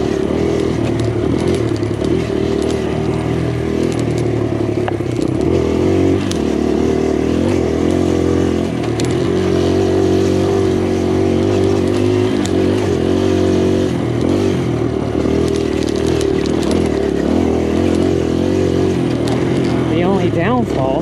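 A 2023 Kawasaki KLX140RF trail motorcycle ridden flat out on dirt trails, its engine droning loud and close without a break, rising and falling slightly as the throttle changes.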